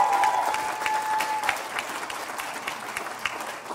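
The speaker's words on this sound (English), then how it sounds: "Let's give them another round of applause." An audience applauds after a children's Christmas program at a school: a dense, continuous round of clapping that holds at an even level and sounds close, with a brief tone at the very start.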